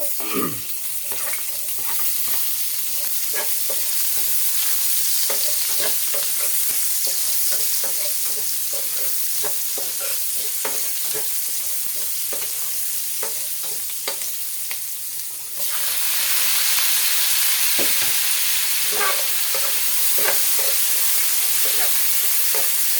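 Onions frying in a pan give off a continuous loud sizzle, with frequent clicks from a utensil stirring them. The hiss swells brighter partway through and carries on without any talk.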